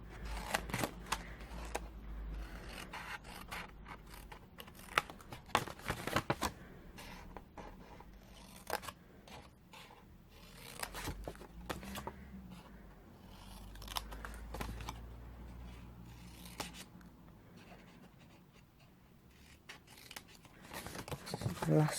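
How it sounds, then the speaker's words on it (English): Scissors cut through card for an exploding box craft, with repeated short snips and rustling handling at close range, quiet overall. "cut up to that second score line, cut away the bottom 2 squares"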